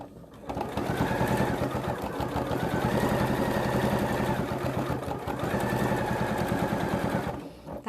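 A sewing machine stitches in a concealed zip in two close, loud bursts of fast, rhythmic whirring, with a brief pause between them and no talking.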